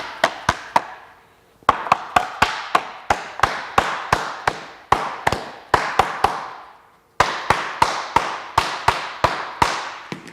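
Sharp repeated taps of a mallet pressing front splitter parts together for a BMW G87 M2, quick steady strikes in long runs with two brief pauses, close and crisp.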